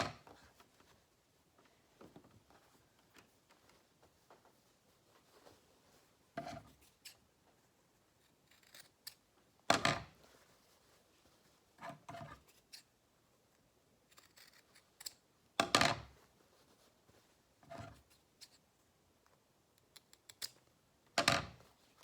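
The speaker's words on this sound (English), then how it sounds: "I'm just going to take and cut these corners off" Scissors snip the corners off a homemade sewn fabric face mask, giving about eight sharp, separate cuts at uneven intervals over a quiet background, close and clear with no talking.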